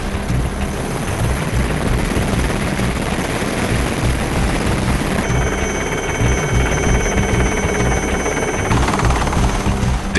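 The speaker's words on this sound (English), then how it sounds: "The pilots do not even step out of the helicopters. They keep the motor running" An Indian Army Aviation Corps helicopter sits with its motor running on a hospital helipad, a loud continuous rotor roar and turbine whine filling the scene from close range without voices.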